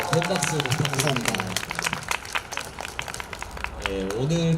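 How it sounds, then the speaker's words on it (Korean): A crowd at an outdoor university busking show claps loudly and steadily, while a voice speaks over the applause near the start and the end. "네, 큰 박수 부탁드립니다."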